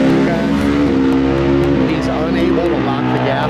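A 2020 BMW S1000RR superstock race bike roars at full throttle with a loud, steady, buzzing engine note that holds high revs throughout, with a slight dip in pitch toward the end.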